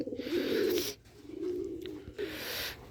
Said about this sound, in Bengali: এখন অনেক সুন্দর ডাকে কবুতর জোড়া